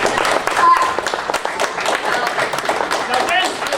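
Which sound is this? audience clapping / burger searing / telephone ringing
audience clapping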